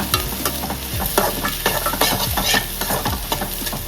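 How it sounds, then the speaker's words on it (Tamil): Onion, carrot, beans and capsicum sizzle in a pan for egg fried rice while a utensil stirs and scrapes in quick, busy strokes, close and fairly loud, with no talking. "கேரட், பீன்ஸ், கொடமிளகா சேர்த்துக்கலாங்க. செகண்ட் கிளறி விட்டுக்கலாங்க."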